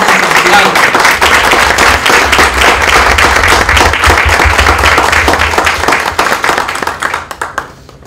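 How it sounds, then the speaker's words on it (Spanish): Loud, close audience applause at a book presentation, a thick burst of clapping that holds steady and then fades out over the last couple of seconds. "Vamos a darle un aplauso."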